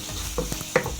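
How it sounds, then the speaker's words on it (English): Red onion frying in a pan, a short burst of soft sizzling with a few quick scrapes of a utensil moving it, close and steady, no speech. "So red onion, as always, comes first, so we're going to fry this until it is starting to brown"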